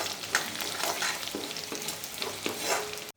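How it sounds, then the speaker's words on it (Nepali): Chopped onions fry in a hot pan with a steady broadband sizzle, while a spoon stirs and scrapes through them in several close, distinct strokes over about three seconds. "अब म प्याज हालेपछि एकछिन प्याज ब्राउन हुनेसम्म एकछिन चलाउने।"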